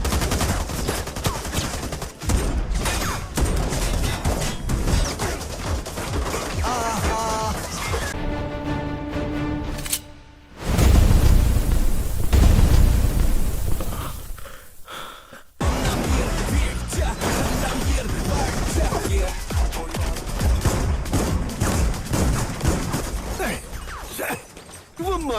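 Rapid bursts of gunfire and crashing impacts in a chaotic Malayalam film fight scene, with voices shouting between the shots and a brief musical swell in the middle.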